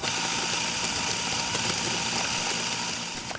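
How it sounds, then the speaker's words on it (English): Steady mechanical whir of a Eureka Atom espresso grinder grinding continuously at moderate volume, with no voices, tapering slightly at the end. "have called the Atom one of the quietest grinders of its type"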